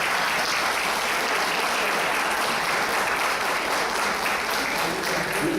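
An audience at an economics lecture in Puerto Rico applauds a professor with a continuous, even roar of many hands clapping that holds steady throughout.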